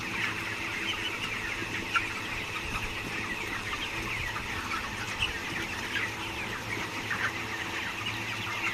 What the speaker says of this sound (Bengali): গাইস দেখুন আমাদের মুরগিগুলো।